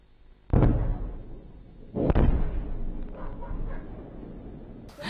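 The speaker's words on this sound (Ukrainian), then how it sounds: "Самі вибухи не видно, але дуже добре чутно" Two loud, booming explosions in Lysychansk, Ukraine, a second and a half apart, each followed by a lingering rumble that fades into distant echoes.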